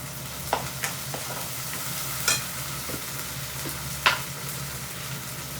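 Tomato frying in spiced oil keeps up a continuous close sizzle, marked by a few scattered spatula scrapes and taps against the pan.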